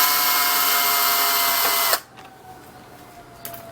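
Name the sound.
removing seat bolt on Kawasaki KLX140L with 8mm tool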